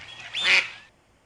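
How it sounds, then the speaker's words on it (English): A duck gives a single nasal quack that swells and fades within about a second, heard alone and close. "This animal is a duck, like the Donald duck."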